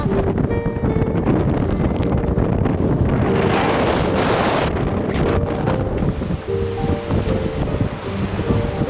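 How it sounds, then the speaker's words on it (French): Strong wind of 25 to 30 knots at sea roars steadily across the microphone, with rushing water and sea noise beneath it, a constant loud buffeting throughout. "25 et 30 nœuds de vent là."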